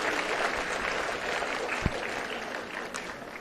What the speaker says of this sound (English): let them a big round of applause for all the teachers community